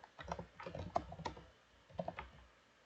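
Someone types a cell name on a computer keyboard in a spreadsheet exam exercise. A quick burst of close, crisp keystrokes comes first, a brief pause follows, then a few more taps.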